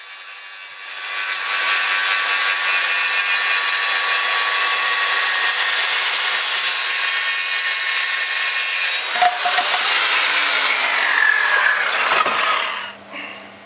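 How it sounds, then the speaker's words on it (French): A circular saw cuts through a clip-together laminate floor plank with a loud, steady high whine that lasts several seconds, then winds down as the blade finishes and slows. "à la scie circulaire ou la scie souffleuse."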